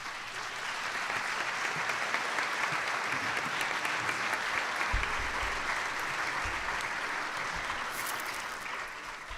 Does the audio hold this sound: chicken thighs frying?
no